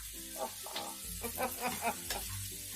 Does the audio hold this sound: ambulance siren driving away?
no